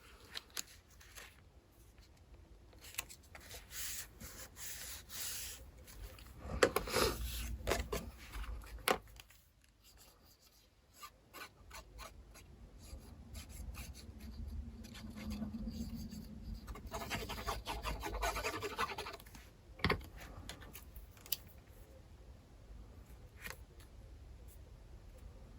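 A bone folder rubs and scrapes across scrapbook paper to crease a fold, dry scratchy strokes in intermittent bursts with brief quiet gaps between passes.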